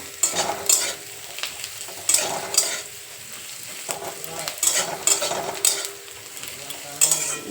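Onions fry in oil in a pan on a gas stove over high flame, a loud hissing sizzle rising and falling in bursts as a spatula scrapes and stirs them every second or so.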